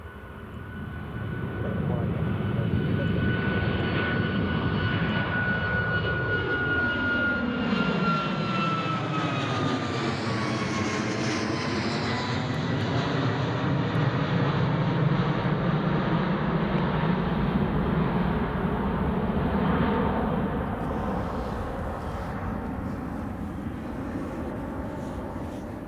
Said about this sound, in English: So another Jet2 is pushing back.